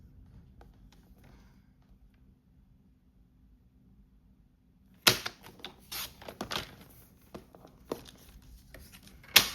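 After a few seconds of near silence, card paper is cut along marked lines with a burst of sharp, close snips and rustling, loudest at the start and again at the very end.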